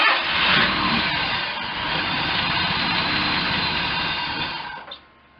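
A 1987 Jaguar engine cranking over and trying to start, a loud continuous whirring churn that holds steady for about five seconds, then dies away with a brief sputter.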